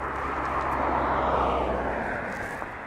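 A jet airplane roars on the runway at East Midlands Airport, a loud, steady broadband rumble heard from fairly close that swells slightly and then eases, with no talk.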